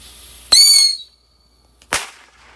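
A huge bottle rocket is let off outdoors. It gives a shrill, loud whistle for about half a second, then after a short silence a single sharp bang goes off. No one talks.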